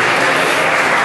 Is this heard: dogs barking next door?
no